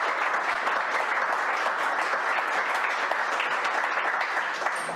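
Audience applause fills a panel discussion with EU election candidates on digital policy, a broad, sustained burst of clapping from many people that keeps a constant strength for several seconds.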